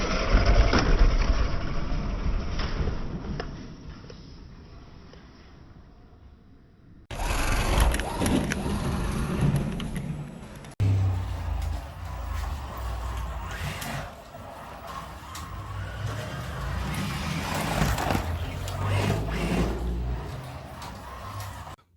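A Carrera 1/24 scale BMW M1 slot car on standard, slightly dusty tires runs laps around a track, its small electric motor whining steadily with surges and dips as it passes near and away, no talking.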